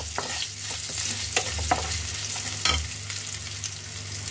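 Crushed garlic sautés lightly in a pan, a steady close sizzle with repeated spoon scrapes and clicks as it is stirred.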